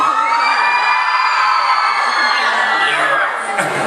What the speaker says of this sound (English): this amount of people screaming in a room